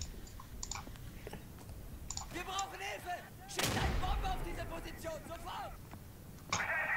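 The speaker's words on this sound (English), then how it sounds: "Oh, I hear bullets coming in." Gunfire crackles in the World War II shooter game Day of Infamy, with bursts of shots and a louder blast midway, heard under a player's voice.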